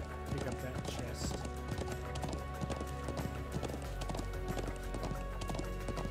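Steady clip-clop of horse hooves while riding in the video game Trails of Cold Steel 2, continuous and fairly close over a rhythmic music bed, with someone talking over it.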